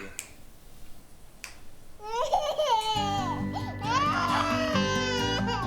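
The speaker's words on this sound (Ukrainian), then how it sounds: "Вона ж плаче." A baby cries in loud wailing bursts after a quieter opening, with rising and falling cries and a steady low hum underneath.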